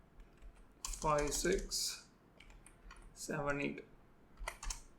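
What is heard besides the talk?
typing on a computer keyboard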